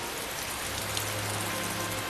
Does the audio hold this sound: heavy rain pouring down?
yes